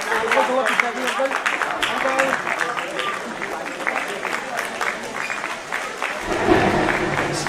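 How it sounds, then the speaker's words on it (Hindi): Sustained applause from a large audience, a dense wash of clapping that continues throughout, with a voice briefly heard near the end. "स्टीरियो साउंड सुनाई दे रहा है तालियों का मुझे"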